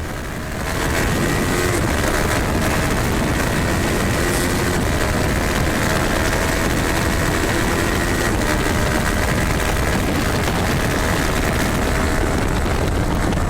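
Motorcycle engines at a mock road race during new-racer school, a steady loud roar of several bikes holding a constant drone for the whole stretch, with no voices.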